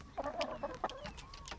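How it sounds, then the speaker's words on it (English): A troublesome rooster in a backyard chicken coop holding Black Copper Marans and Welsummers lets out a quick run of close, throaty clucks, several short bursts in an uneven rhythm with no talking. "This is that troublemaker rooster."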